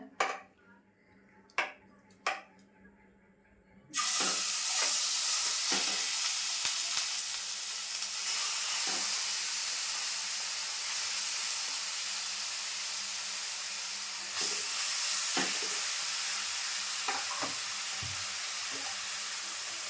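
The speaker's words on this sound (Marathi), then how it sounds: "हे सगळं वाटण मी आता मासेला लावून घेतलं आहे आता आपण फोडणीला टाकूया" Masala-coated fish dropped into hot tempering for a Malvani-style fish curry bursts into a loud, steady sizzle after a few faint taps, holding a broad hiss for the rest of the stretch with small crackles throughout.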